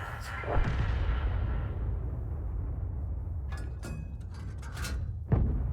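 A 114mm artillery gun firing in an FV304 tank video game: a loud opening boom rolls into a long rumbling tail, sharp mechanical clatters come later, and a second heavy shot lands near the end.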